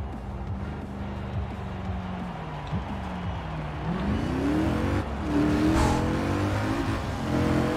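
Audi RS4 engine in Forza Horizon 4, driven on ordinary streets: revs rise and fall in sweeping pulls with gear shifts, louder acceleration building toward the end, no speech.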